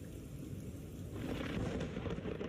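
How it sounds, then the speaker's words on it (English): Thunder from lightning during a severe storm with tornado warnings and flooding near Houston, Texas, a low, rumbling roar that swells midway and lingers loud over steady rain-like noise. "That lightning is so loud."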